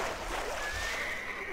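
A horse in Black Desert Online neighs with a long, drawn-out whinny while it drowns, layered over steady splashing and game noise.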